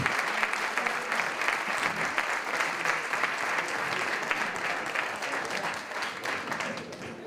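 Steady applause from a seated audience at a rural development conference in Castilla y León, a sustained wash of many hands clapping that carries evenly through the whole stretch with little voice.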